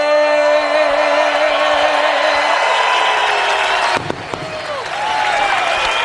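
A large crowd at Mansfield Motorsports Park cheers loudly and continuously right after the anthem before a NASCAR Craftsman Truck Series race, a sustained roar with whistles that dips around four seconds, then swells again.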